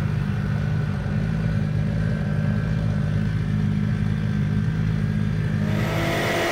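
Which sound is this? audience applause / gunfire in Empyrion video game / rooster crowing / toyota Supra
toyota Supra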